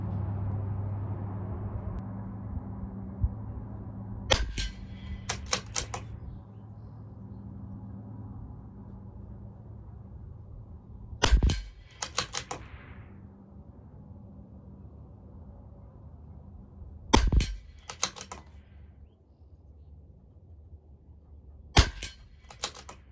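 CZ457 LRP rifle firing SK Standard Plus .22 ammunition at a 50-yard range: sharp, close cracks in small clusters of two or three shots, separated by long quiet gaps with low background hum and no talking.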